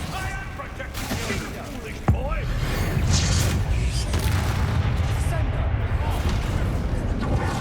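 An Incendio fire spell cast in Hogwarts Legacy cracks out as one sharp burst, then a sustained roaring whoosh of flame fills the rest of the moment, loud and close, with voices in the scene.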